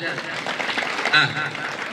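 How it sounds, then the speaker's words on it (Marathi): An audience claps loudly at a hypnotism comedy show in Borgaon, Karnataka, a dense wash of applause with a voice talking over it. "जोरदार टाळ्या होऊन जाऊ द्या"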